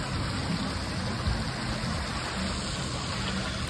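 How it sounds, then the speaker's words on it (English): A small water fountain in a town center near the courthouse splashes continuously, a steady close rush of falling water with no voices over it. "Look at a little water fountain."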